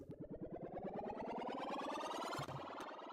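A synthesized riser effect from a Hyper Effects pack sweeps steadily upward in pitch as a fast, pulsing, distorted tone that grows brighter over three seconds before a brief low thump near the end.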